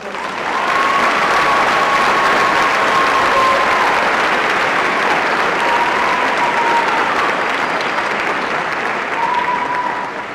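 Sustained audience applause for newly commissioned naval aviation graduates at a military ceremony, a steady dense wash of clapping lasting the full stretch with a faint tonal whistle-like sound drifting through.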